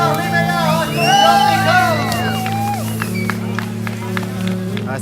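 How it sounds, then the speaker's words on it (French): A rally crowd applauds and cheers the winners at Rallye Charlevoix, with whoops and shouts rising over steady clapping, plus voices and a low hum running beneath throughout. "On les applaudit bien fort, les meilleurs!"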